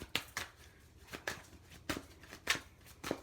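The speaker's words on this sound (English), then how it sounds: "Let's shuffle it up." Tarot cards shuffled by hand in a quiet room, a series of crisp riffling bursts at irregular intervals, close and fairly soft, with no talking.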